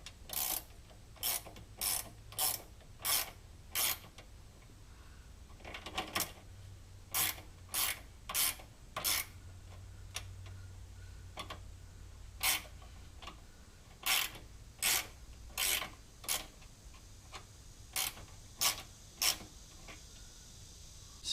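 A 17 millimeter ratcheting wrench tightens bolts on a GT500 shifter with quick, close clicking strokes that come in bursts of several clicks, separated by brief pauses.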